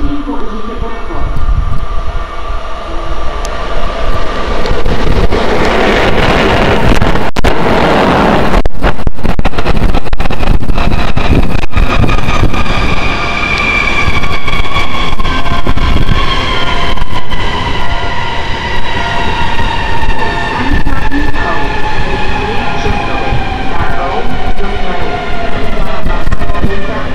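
A train pulls in to platform 2, track 4 at Púchov station in Slovakia, a loud continuous rumble with rising and falling squeal and rail noise throughout, while a voice speaks over it.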